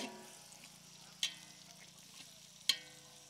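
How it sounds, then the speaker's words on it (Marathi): Onions fry in oil in a large pot for a 5 kg dum biryani, a soft, faint sizzle broken by two sharp utensil clinks against the pot. "तेलामध्ये ना पहिले कांदा टाकायचा, कांदा फ्राय करायचा."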